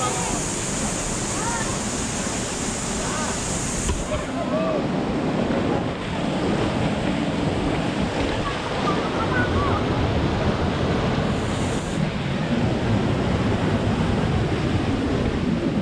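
Falls 3 at Digos Hills in Bulacan roars steadily and loudly throughout, a dense unbroken rush of water close by, with some wind buffeting the microphone.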